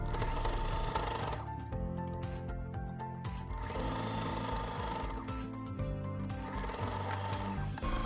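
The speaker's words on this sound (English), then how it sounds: "sew the facings to the sleeves right sides together" A sewing machine stitches sleeve facings onto dress sleeves with a steady, continuous mechanical whir that runs without pause throughout, backed by tonal music.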